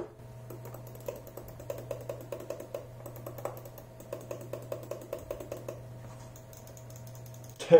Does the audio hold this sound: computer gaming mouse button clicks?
yes